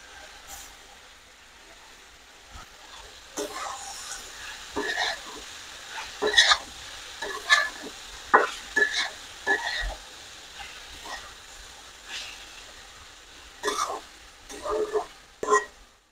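Bitter gourd (korola) with potatoes frying in a pan while being stirred, giving soft scraping strokes and intermittent clattering knocks over a low, steady sizzle, fairly close and moderately loud.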